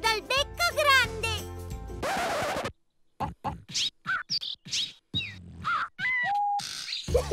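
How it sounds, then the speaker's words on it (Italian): Cartoon birds with big beaks beatboxing, a run of short punchy vocal beats, clicks and chirpy whistles in quick rhythm, loud and close, after a bright musical jingle and a brief noisy burst. "Betty, quelli sono... uccelli beatboxer dal becco grande"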